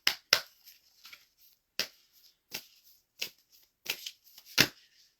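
Tarot cards being shuffled in a series of crisp, separate riffles and slaps, close and fairly loud with near silence between bursts, the last ones coming more quickly.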